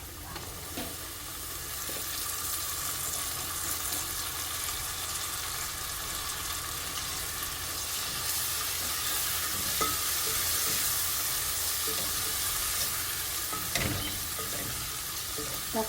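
Tomatoes frying in a pan for a palak spinach curry, a steady close sizzle with faint stirring scrapes running throughout, no talking.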